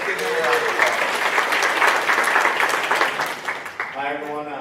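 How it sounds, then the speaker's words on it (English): An audience at a university professional development meeting gives a steady round of applause that holds for several seconds and then thins out, with a voice beginning to speak near the end. "let's give him a round of applause"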